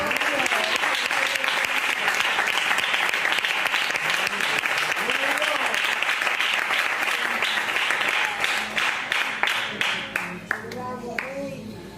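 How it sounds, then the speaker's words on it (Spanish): Church congregation applauding, a sustained wash of many hands clapping that thins into scattered claps near the end, with voices heard under it. "Un aplauso para el Señor."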